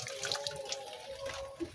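Diluted liquid organic fertilizer made from jackfruit peel pours steadily from a container onto cassava and mango plants on a home terrace, a close, continuous splashing trickle with no talking.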